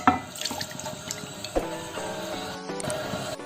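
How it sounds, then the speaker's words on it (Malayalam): Boiled falooda sev (vermicelli) is strained after water is poured over it. A continuous close splashing and draining of water runs throughout, with no talking. "ഇനി ഇതൊന്ന് അരിച്ചെടുക്കണം."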